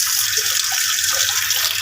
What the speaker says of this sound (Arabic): بنعمل ميه في الكاتل